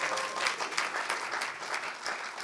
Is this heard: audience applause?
yes